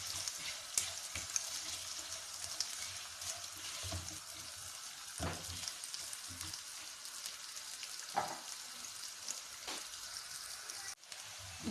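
Two medium onions fry in a pot for balti gosht, a continuous close, soft sizzle with occasional stirring clinks and scrapes.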